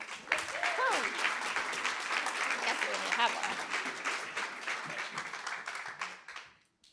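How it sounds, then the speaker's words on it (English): Audience applause at a panel event on Nordic female leaders, a steady, dense wash of clapping lasting several seconds before fading out, with a few voices faintly mixed in. "please join me in giving a warm round of applause for Katarina, Bonde, Michaela, Wallin, and H"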